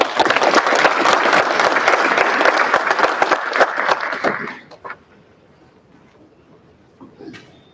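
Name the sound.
applause for Laura, outstanding senior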